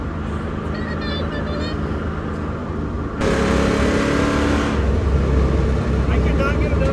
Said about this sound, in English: My late 90s V8 Dodge truck.